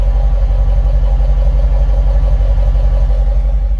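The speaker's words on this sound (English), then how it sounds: "I guess I'll get a sound of the exhaust when it's idling." A 2014 Dodge Challenger R/T's stock exhaust idles close by with a deep, loud, steady rumble pulsing evenly, no voices.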